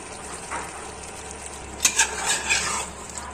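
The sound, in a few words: stirring chicken masala with pepper powder in a pan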